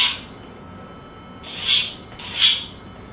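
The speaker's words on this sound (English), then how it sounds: "I'm going to take our grinder and just grind them down a little bit shorter" An electric nail grinder working on a Havanese dog's nails, giving a high rasping whir in three short passes separated by pauses, close and fairly loud, with no speech.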